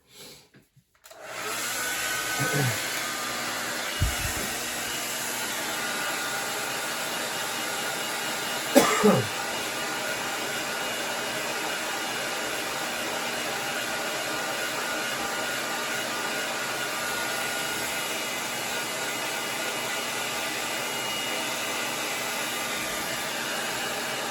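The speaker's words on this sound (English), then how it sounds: "I'm just going to get this with the hair dryer real quick" A hair dryer roars steadily and close for the whole stretch, with a couple of brief coughs or throat clears breaking through near the start.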